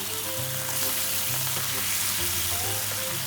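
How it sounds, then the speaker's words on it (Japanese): Konjac stir-frying with soy sauce, garlic, mirin, sake and chili in a pan, a loud even sizzle with faint intermittent stirring noises, close by and without speech. "であとは汁気がなくなるまで炒めていきます"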